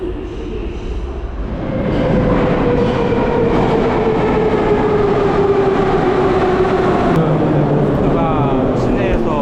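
Airport rail-link train in Moscow running above ground, a steady loud rumble and rolling rail noise with a rising whine, heard from inside the carriage; a voice talks faintly underneath.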